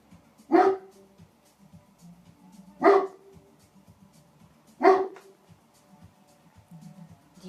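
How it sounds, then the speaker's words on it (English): A dog barks three times, each a single sharp bark about two seconds apart, fairly close and loud against a quiet room with no talking. "Sorry, it's my dog."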